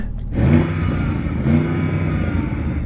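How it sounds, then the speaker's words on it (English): An Audi RSQ8 engine revs up and holds a steady, loud rumble, surging briefly again partway through, heard from close by. "RSQ8, rev up your engine."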